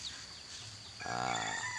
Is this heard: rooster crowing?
yes